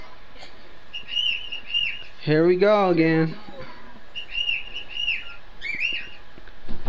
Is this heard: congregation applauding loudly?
no